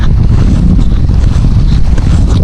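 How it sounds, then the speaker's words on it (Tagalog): Steady, heavy wind buffets the microphone on a Manila Bay breakwater with a constant low roar, with a faint hiss of water or surf beneath it and no talking. "Medyo mahangin pa rin dito."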